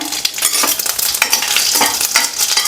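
Mustard seeds and dried red chillies crackle loudly in hot oil as a spoon stirs them, a dense, close, busy sizzle with rapid pops and scraping throughout, and no one speaking.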